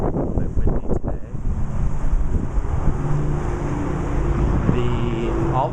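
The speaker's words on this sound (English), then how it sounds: "A little bit windy today." Wind gusts outdoors by a desert-landscaped front yard in Henderson, Nevada, buffeting the microphone with a loud, rough rushing roar that stays constant throughout, with no voices heard.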